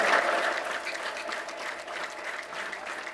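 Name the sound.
congregation applauding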